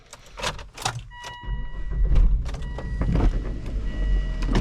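A 2.4-litre turbocharged 2001 Volvo V70 XC cranks and fires up: a few sharp clicks and clunks, then a low engine rumble that swells and settles into a steady idle close by.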